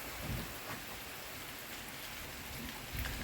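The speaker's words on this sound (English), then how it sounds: "With this rain downpour, it certainly feels like the coming of fall." Steady rain downpour hissing evenly on surfaces outdoors, a dense continuous wash with a few heavier drops landing nearby and no talking.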